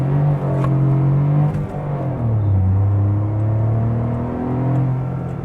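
A Maruti Suzuki Baleno RS engine revs and accelerates with a loud, throaty drone, its pitch climbing, dropping at a gear change, then climbing again, heard close from inside the car with no talking.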